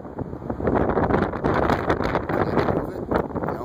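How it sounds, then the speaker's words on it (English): Steady wind buffets the microphone outdoors, a loud, continuous rumbling roar with gusty surges throughout and no clear voice. "We're starting to get a little wind up here."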